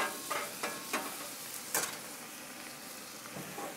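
Ribeye steak frying with butter on a Blackstone griddle, a steady soft sizzle with occasional crackles and spatters, close and alone without talking.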